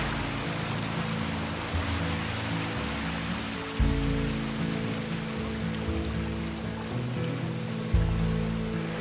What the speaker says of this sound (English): I thought the rain was stopping and then I looked to the side and it was just cloud.